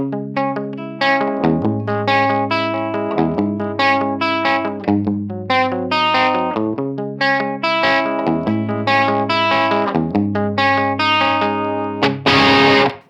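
Distorted electric guitar riff through a UAD Lion '68 Marshall Super Lead amp plugin, heavy amp tone, steady and loud throughout, chords and single notes mixed, ending in a noisy burst.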